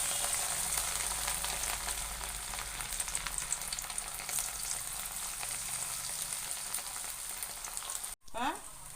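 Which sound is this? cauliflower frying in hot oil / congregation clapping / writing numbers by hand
cauliflower frying in hot oil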